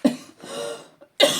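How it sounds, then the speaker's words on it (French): A woman coughs a few times up close, with short harsh bursts and a brief throaty catch between them. "J'espère que ça ne vous cassera pas les oreilles quand je tousse."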